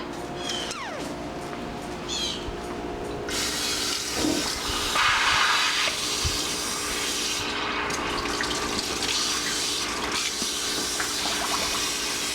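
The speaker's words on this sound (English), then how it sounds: "Just water cleans your bag between colors" Tap water running broadband and steady into a sink, rinsing out a piping bag between icing colors while decorating a basketball cake, a close continuous wash with shifting splashes.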